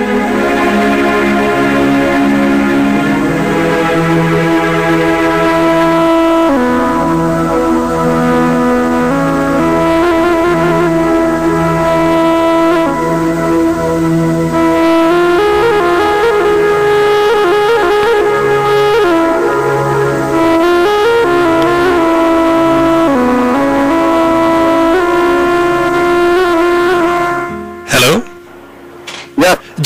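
A song sung with instrumental backing plays continuously on the radio, then cuts off abruptly near the end with a few clicks.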